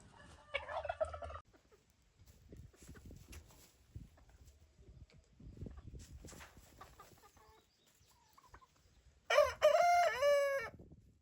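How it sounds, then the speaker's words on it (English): Farm turkeys gobble in several rapid warbling bursts, with a loud close gobble near the end and quieter clucks and rustling between calls. "I love the sounds that the turkeys make."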